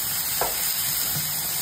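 Sautéed sayote sizzles steadily in a pan while a utensil scrapes and stirs through it. The hiss of the frying is continuous, with a few soft scrapes close by and no talking.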